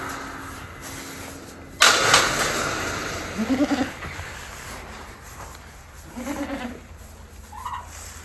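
Goats bleat on a snowy farm, several short wavering calls at moderate distance over a quiet background, preceded by a sudden clatter or bang.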